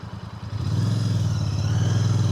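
A Royal Enfield Bear 650 motorcycle engine idles nearby, then swells into a steady, loud, throbbing rumble that holds to the end.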